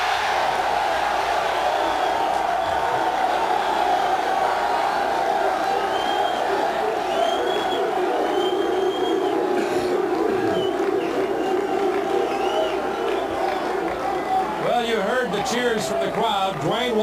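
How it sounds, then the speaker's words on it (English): A steady roar from a large arena crowd cheering at the 1986 NBA Draft, sustained and distant-sounding, with whistles and rising shouts near the end. "Cheers from the crowd."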